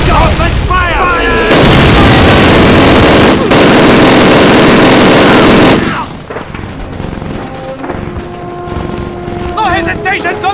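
Battle gunfire in the Call of Duty video game: dense, loud, sustained shooting and booms that fill the scene, easing into a thinner mix of scattered shots and noise, with shouted voices under it.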